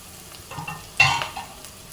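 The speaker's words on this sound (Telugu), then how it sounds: "అల్లం వెల్లిపాయను ఈ ఆనియన్స్ 2 కూడా మంచిగా ఫ్రై అయిపోతాయండి." Onions and green chillies frying in oil, a quiet steady sizzle stirred once or twice, with one sharper scrape of a utensil midway, close and without talk.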